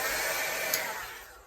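Heat tool or dryer blowing briefly over an art journal page, a steady close airy roar that fades toward the end, heard alone.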